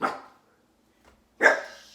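A dog barks twice at close range, one sharp bark at the start and a second louder one after a short silence, with no talking.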